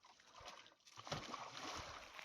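A dog splashes into water after a thrown ball on a hot day on Dartmoor, a steady wash of splashing and sloshing that swells midway and runs throughout without talk.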